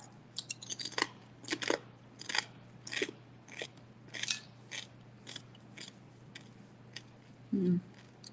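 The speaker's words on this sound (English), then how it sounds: "Got a good crunch in my mouth." Someone bites and chews Carnivore Crisps, a salty chip-like snack, close to the mouth, giving a run of sharp, irregular crunches spaced about half a second apart over quiet background hum.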